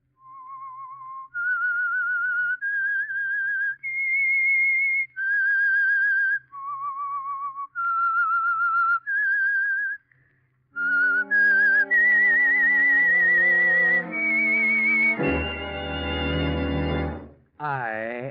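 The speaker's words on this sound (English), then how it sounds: "That whistle is your signal for the Signal Oil Program" A lone whistler carries a slow, melodic theme of sustained notes, stepping up and down in pitch, for a radio mystery drama from the 1940s CBS era. Near the end a rich, swelling orchestral chord takes over, loud and close.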